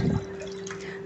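Water splashes briefly into a pan of dudhi vade curry, bottle gourd fritters in gravy, as a short close pour that quickly fades into a low steady hum.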